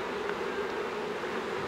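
Honey bees hum on a hive frame close by, a soft, even drone that stays steady throughout with no voices over it.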